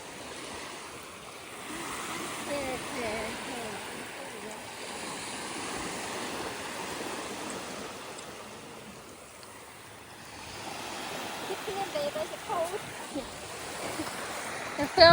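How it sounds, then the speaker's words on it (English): Ocean surf washing onto a beach on a sunny Easter Sunday: a steady, broad roar of breaking waves with gusts of wind buffeting the microphone, swelling louder toward the end. "We move closer to the ocean, which is majestically going in."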